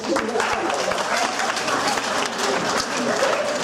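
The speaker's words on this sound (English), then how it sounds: "So give yourself another round of applause." Full-house audience applause at a school film and media awards evening, a loud continuous roar of clapping with crowd noise and some voices blended in.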